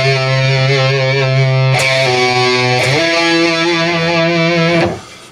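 Electric guitar played through distortion in a lesson setting, sustained overdriven chords changing twice before the final one cuts off, loud and alone with no talking.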